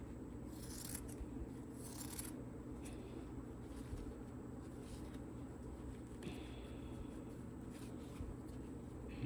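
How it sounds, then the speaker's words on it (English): Scissors snip through machine-embroidered fabric for a snowman design, a few soft cutting and rubbing bursts early on over a steady low hum, close but faint. "I'm trying to make sure I cut through everything."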